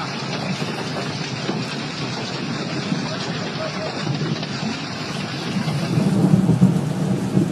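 A thunderstorm with torrential rain over flooded Queensland and New South Wales: a dense, steady roar of rainfall with a deeper rumble of thunder swelling toward the end.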